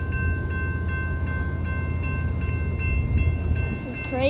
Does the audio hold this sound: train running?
yes